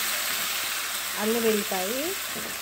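Ground onion paste fries in a pan with a steady, hissing sizzle throughout, and a voice briefly speaks partway through.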